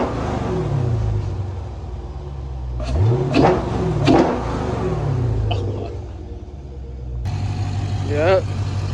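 A Dodge Scat Pack V8 fitted with a JLT cold air intake idles with a deep rumble, then is blipped in several sharp revs, with a final rev after a brief lull; the engine is close and loud, and voices talk over it.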